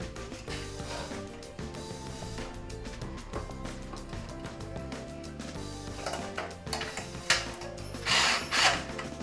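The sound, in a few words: power tool running anchor bolts on hybrid battery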